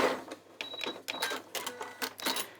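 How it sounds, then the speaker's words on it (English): A fast domestic sewing machine stitches fabric in quick, bursty runs, with a rapid mechanical whirr and clatter rising and stopping several times, close and moderately loud. "See what I mean about this machine being quick?"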